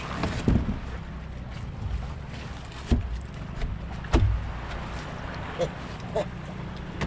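A fishing boat motor rumbles steadily in the low range with wind and water noise, a few sharp knocks punctuating the drone.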